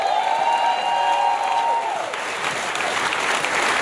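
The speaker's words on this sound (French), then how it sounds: "on a un gros 72 personnes qui nous écoutent en live et ça monte, on peut les applaudir" A crowd claps steadily and loudly throughout, with a short whistle-like tone at the start fading out as the applause continues.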